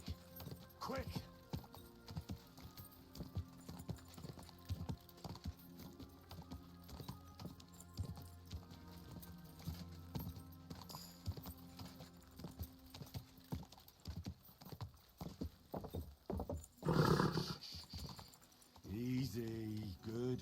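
Quiet, steady clip-clop of horse hooves trotting along in Kingdom Come: Deliverance 2, with a brief voice and rustling near the end.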